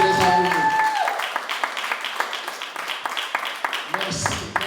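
A church congregation applauding during a sermon, a dense patter of many hands clapping that carries on for several seconds, with a voice over the start and end.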